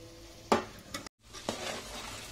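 Taro (arbi) pieces frying and being stirred in hot oil in a pan for a Rayalaseema-style dry curry, giving a steady sizzle with a few sharper scraping stirs.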